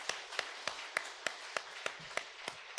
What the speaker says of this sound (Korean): 우리 박수로 한번 환영하겠습니다.